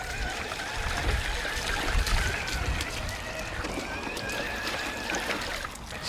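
An RC mega truck mud bogger with mud tyres and locked diffs churning steadily through sticky mud, a dense continuous wet sloshing and squelching with a low rumble that stays close and fairly loud throughout.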